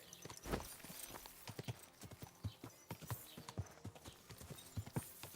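Horse hooves clip-clop steadily while riding in Kingdom Come Deliverance 2, a close, rhythmic trot of repeated hoof strikes with a brief snort or whinny near the start.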